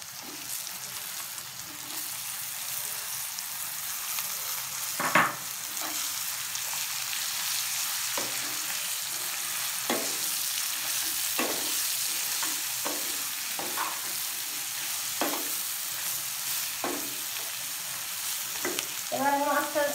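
Sliced eggplant frying in a pan of oil for a tomato and royna fish dish: a constant close sizzle and hiss with intermittent scraping stirs of a spatula spaced every second or two.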